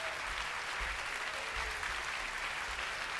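An audience at an intimate live concert venue claps, a soft, distant, even spray of many hands that stays steady and faint throughout, with low thumps underneath.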